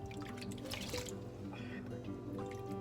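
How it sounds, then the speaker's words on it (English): Hand-scooped water drips and splashes over a guinea pig during a bath, with quiet trickling and dripping close by in a small basin. "grab the water in your hand like that and just put it all over their face and underneath their chin"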